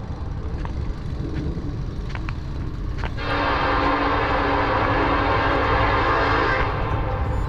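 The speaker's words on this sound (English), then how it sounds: "Give me a horn show." Horn of a Norfolk Southern freight train led by an EMD SD70ACe locomotive, a loud sustained blast setting in partway through over steady rumbling rail noise, held for several seconds before easing back.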